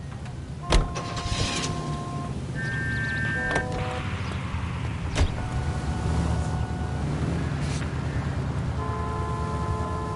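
Car driving in the game L.A. Noire, a steady low engine hum and road rumble with a few sharp clunks and tonal beeps over it, moderately loud and continuous.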